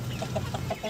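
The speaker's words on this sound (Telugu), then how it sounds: "వీటిల్లో 5 పుంజులు ఉన్నాయి. అసలు ఒకదాని తర్వాత ఒకటి కొక్కరొక్కో నరుస్తూనే ఉంటాయి పొద్దున్న నుంచి సాయంత్రం వరకు." Roosters in a home garden flock of five cluck in quick, repeated bursts, close and fairly loud, with no voices.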